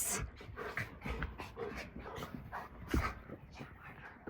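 Schnauzer and schnoodle puppies whimper and pant up close in a short, busy burst of soft yips and breathy sounds, with people talking in the background.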